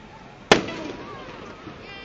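A single sharp firework burst on a Fourth of July night in West Allis, Wisconsin, cracks loudly and then fades into a rumbling tail, with a faint sizzle trailing after it.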